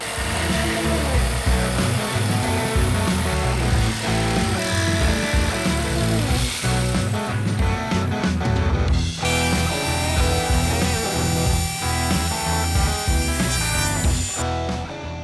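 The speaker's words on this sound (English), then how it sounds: "I'm going to take my jigsaw, cut this out, and clean up the edges with our template." A jigsaw cuts out a piece of wood during a vanity stretcher fix, producing a loud, continuous buzzing rasp with uneven chattering pulses and a brief shift in tone about midway through.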